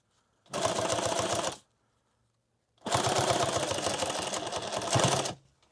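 A sewing machine stitches through a microfiber tactical glasses pouch in two close, loud runs of rapid needle clatter, a short burst and then a longer stretch, separated by a brief pause.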